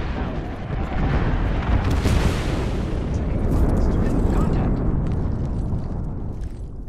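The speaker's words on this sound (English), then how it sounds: "we got an airstrike coming down" Airstrike explosions in Apex Legends, a dense, loud rumbling barrage of booms and bursts rolling on continuously for several seconds with no clear gaps.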